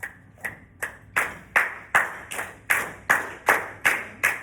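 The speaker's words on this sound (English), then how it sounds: "Can we all clap eighth notes?" A music class claps eighth notes together in unison, about a dozen sharp, evenly spaced group claps in a steady rhythm, each one crisp and close with a brief decay, and no talking.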